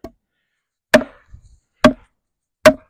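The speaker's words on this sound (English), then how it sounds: "look how deep that just went in just by batoning" Lengren TANK drop-point knife with a Sleipner steel blade batoning into wood: three sharp, loud chopping impacts spaced about a second apart, with a faint scuffle between the first two strikes.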